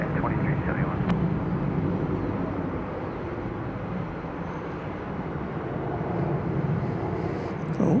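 An American Eagle Embraer regional jet takes off at DFW Airport. It sounds like a continuous, moderately loud engine rumble and roar, steady across the whole stretch and heard from some distance.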